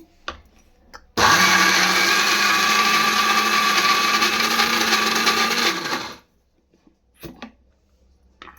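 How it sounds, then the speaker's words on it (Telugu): A kitchen mixer grinder blends fresh coconut into idli batter, starting abruptly with a loud, steady whirring roar for about five seconds, then winding down to silence, followed by a few faint knocks. "ఇప్పుడైతే మిక్సీకి అయితే పట్టేద్దామి"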